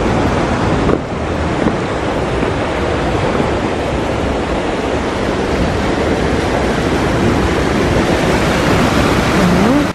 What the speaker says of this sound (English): Have a look at the water going in.